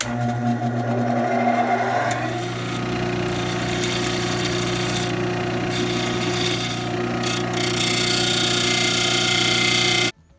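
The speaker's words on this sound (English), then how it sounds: "we'll give it a little bit of a bevel, clean it up so it'll thread in nicely on the sander" A sander bevels the freshly cut end of a shortened steel bolt, giving a loud, steady grinding whir that runs continuously for about ten seconds before cutting off abruptly.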